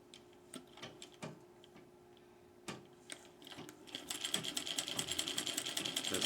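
Treadle sewing machine stitching embroidery, with a few separate mechanical clicks and knocks at first, then a fast, steady run of rhythmic stitching that grows louder and stays close.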